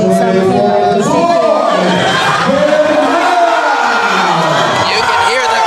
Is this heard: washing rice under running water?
no